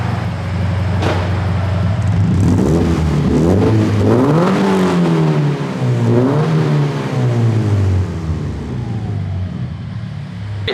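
A Subaru FRS engine running on stock headers idles with a steady low rumble, then revs up twice in rising and falling sweeps before settling back, loud and close with no talking.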